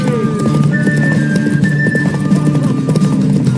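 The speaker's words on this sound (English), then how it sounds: "Want that horse, don't ya?" Horse in The Witcher 3 video game galloping, with loud rapid rhythmic hoofbeats throughout and drawn-out neighing over them, close and dominant.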